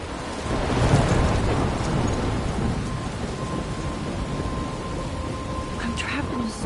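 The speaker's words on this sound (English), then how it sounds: "I'm trapped in a storm?" A thunderstorm with steady heavy rain hissing throughout and a loud rumble of thunder early on, the downpour continuing at a constant level afterward.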